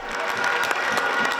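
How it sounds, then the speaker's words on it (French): A crowd at a presidential campaign rally in Gbegamey applauds for Romuald; a brief stretch of dense, steady clapping, fairly loud and continuous. "Applaudissez pour Romuald"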